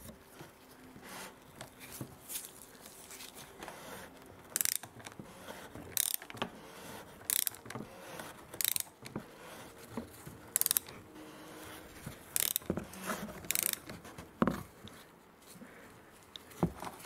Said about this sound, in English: I can then use the tool to finish tightening this.